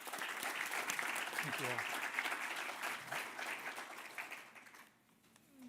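Audience applause at a talks event on accessibility, a dense, steady round of clapping from a crowd that fades out near the end as a voice speaks briefly.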